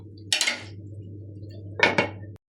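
A lid set onto a pot of peppery Pakistani-style beef gives two short metallic clatters about a second and a half apart, close and fairly loud over a steady low hum.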